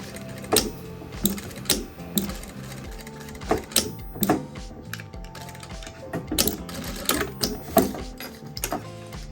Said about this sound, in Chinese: 在原来的车缝线上车缝一道